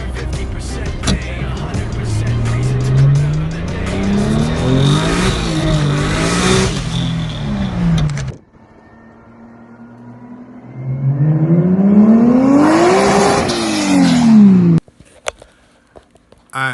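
Toyota 2JZ-powered Lexus SC300 running on E85, pulling out with repeated loud revs rising and falling, an engine sweep after a brief quiet gap, tire noise mixed in, close and strong.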